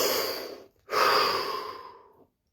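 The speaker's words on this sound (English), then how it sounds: "take a deep breath" A group of people taking a deep breath together during a guided exercise: a long, loud rushing inhale, a short pause, then a long exhale that fades out, close and with no talking.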